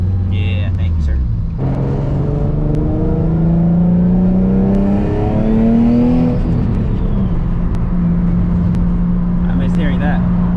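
A turbocharged Nissan 350Z making about 800 wheel horsepower, its engine droning steadily and climbing in pitch through a long rev before easing off, heard from inside the car with voices talking over it.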